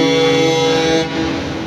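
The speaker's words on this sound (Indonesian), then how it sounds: "Waduh, itu klakson dari kapal" A ship's horn sounds at a harbour at night as a vessel prepares to berth at a dock, a loud, steady tonal blast that holds for over a second and then eases off.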